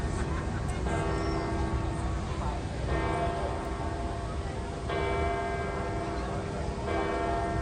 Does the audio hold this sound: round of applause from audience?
no